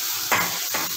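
Oil sizzling steadily in a pan as food is fried during home cooking, a continuous close hiss with two brief surges as the contents are stirred.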